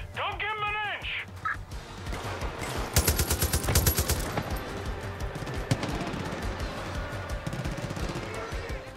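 Gunfire in Far Cry 5 during a Hope County Jail mission, a burst of rapid shots in the middle over a busy game mix with a brief voice-like cry near the start and ongoing background sound.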